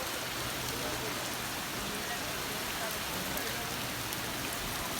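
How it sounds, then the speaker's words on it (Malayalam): Heavy rain pours down in a dense, even hiss that stays constant and fairly close from start to finish, with no distinct breaks or other sounds standing out. "നല്ല മഴയാണ്"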